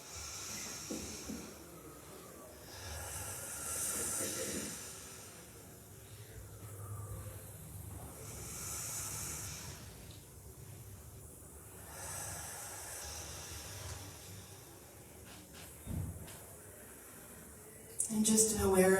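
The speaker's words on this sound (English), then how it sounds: "Maybe take a couple deep breaths to cleanse." Deep breathing during a Sunday morning guided meditation: slow, soft inhales and exhales recur every few seconds as breathy hisses, quiet and close, with a calm voice speaking faintly between them.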